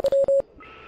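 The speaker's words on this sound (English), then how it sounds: "Morse code." Morse code tones come over a radio in Oxenfree: a few short and long steady electronic beeps, clear and close, then a faint hiss of static.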